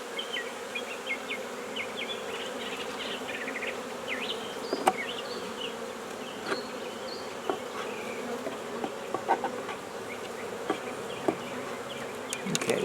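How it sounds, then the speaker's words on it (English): A dense swarm of honeybees buzzes steadily around a hive, a continuous close drone with scattered sharper wingbeat passes and faint ticks throughout, no voices. "The bees are after them."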